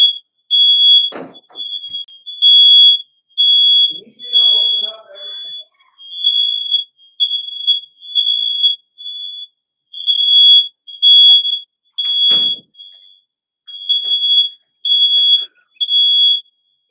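A household smoke alarm, set off by an opened oven, sounds loud, piercing electronic beeps in repeated bursts with short gaps, while someone talks over it in brief phrases.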